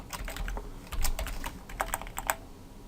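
Fast, steady typing on a computer keyboard as a paragraph is written, a close run of crisp key clicks with a few heavier strokes.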